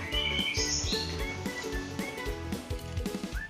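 A young white-rumped shama chirps and warbles in bright, varied phrases over a steady, rhythmic low background music, fairly loud and close.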